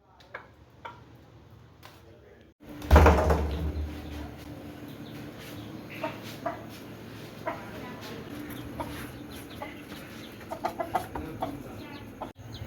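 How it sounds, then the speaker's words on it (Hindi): A rooster that has just been let out clucks in short, scattered bursts near a mic that is handled and knocked. A loud thump is followed by quieter clucks and ticking sounds, with some voice in the background. "यहाँ पर आते साथ ही ना मैंने मुर्गे को खोल दिया है।"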